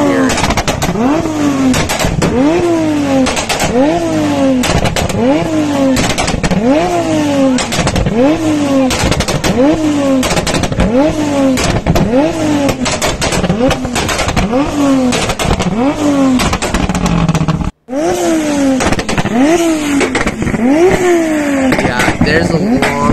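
A car engine revs repeatedly in a steady rhythm of rising and falling bursts, loud and close, with a brief cutoff near the end before revving resumes.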